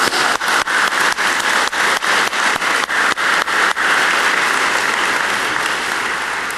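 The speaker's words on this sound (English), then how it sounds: "So I think that's actually worth a clap." An audience at a cystic fibrosis medical conference plenary breaks into applause, with loud sharp rhythmic clapping in unison at first that melts into a continuous wash of clapping.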